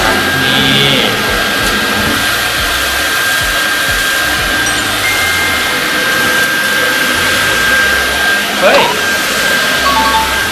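A Samsung Bespoke Jet cordless vacuum cleaner runs in jet mode with a loud, steady, high-pitched whine and rushing airflow. It holds constant for the full ten seconds while someone talks over it.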